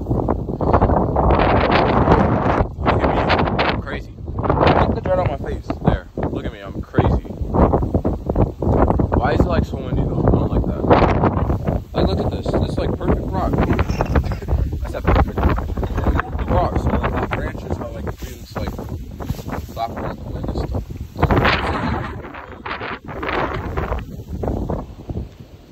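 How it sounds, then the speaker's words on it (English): Heavy gusts batter the microphone with loud, low rumbling buffets that surge and ease, while a person talks intermittently through the roar. "Oh, it's starting to get really windy."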